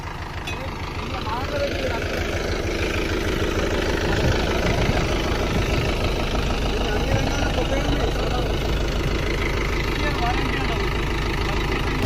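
A tractor engine idles steadily close by, a low rumbling chug that holds for the whole stretch with a constant loudness, while people talk faintly underneath.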